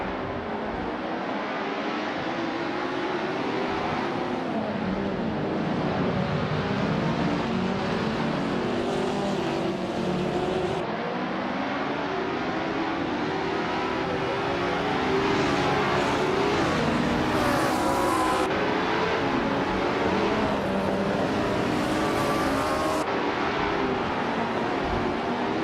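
Classic 1961 Cooper T55 racing cars roar through a video game race, their engines droning steadily at high revs with rising and falling pitch as cars pass, loud and continuous throughout.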